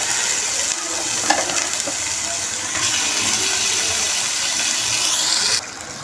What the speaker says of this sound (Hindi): मैंने सारा बीफ डाल दिया इसमें और उसको अच्छी तरह हम फ्राई करेंगे जब तक इसका कलर चेंज ना हो जाए